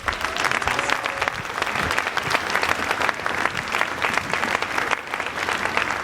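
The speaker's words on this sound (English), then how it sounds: "Can we give them another round of applause?" An audience at a 5th and 6th grade school winter instrumental concert claps steadily and loudly for several seconds, a dense wash of applause with no break.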